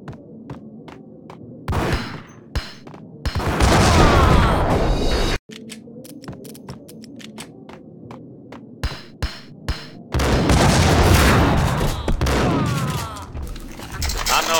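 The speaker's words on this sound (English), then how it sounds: "A bomb!" Loud bursts of gunfire and explosive booms from a shooter video game come in several heavy clusters, with dense crackling blasts between quieter stretches of sharp single shots.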